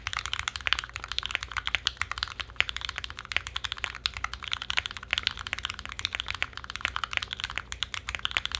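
Rapid typing on a Mode SixtyFive keyboard fitted with MX Black switches and a carbon fiber plate, a dense, continuous stream of deep keystroke clacks close up, steady with no talking.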